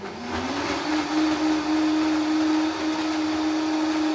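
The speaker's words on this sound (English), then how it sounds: "So we let blend that like for 4 minutes till it's hot." A kitchen blender whirs steadily as it purees ginger, chili, red bell pepper and half an onion for a raw vegan ramen soup broth. The loud, continuous motor hum rises in pitch as it starts, then holds steady with a grinding whirr throughout.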